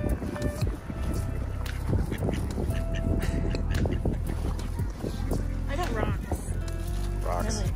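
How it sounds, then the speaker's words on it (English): Ducks quacking in bursts near the middle and end at Estes Park, Colorado, mixed with outdoor wind and people chatting. "We just found a bunch of ducks."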